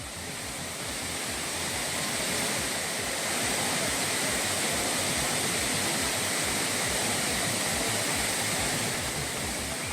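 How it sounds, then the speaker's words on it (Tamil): The Courtallam waterfalls pour in a steady, loud roar of rushing water that fills the whole stretch without pause, with no voices present. "குற்றால அருவிகளில் தண்ணீர் வரத்து சீராகியுள்ளது"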